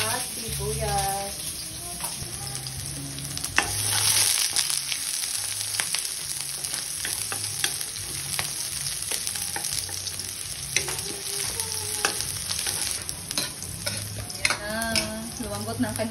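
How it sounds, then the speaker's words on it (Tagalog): Garlic and onion sautéing in a pan for a Filipino dish, a steady bright sizzle with stirring scrapes throughout and a voice talking over it now and then. "magluluto na ako ng ating halang-halang. Bisa na natin itong bawang at sibuyas."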